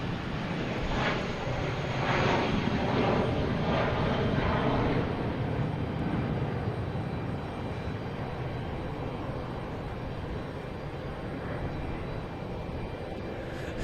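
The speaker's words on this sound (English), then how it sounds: "We got JetBlue here heading to Atlanta in A320," A JetBlue Airbus A320 jet airliner at Boston Logan Airport roars past nearby, a loud broadband rumble and whoosh that swells early and then settles into a sustained engine drone.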